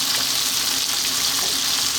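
Lamb and onion fry in oil in a pan over high heat for a lamb mushroom coconut curry, giving a steady, loud, close sizzle that holds evenly throughout with no voices.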